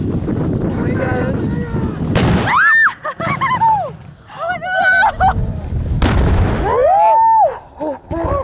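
A watermelon is blown up outdoors on the 4th of July with sharp, loud blasts, one after another, ringing and whistling in the open air while people shout and talk excitedly around them.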